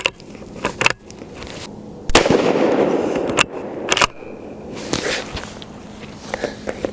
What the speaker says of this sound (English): we're just going to be shooting here at 100 yards doing 3-shot groups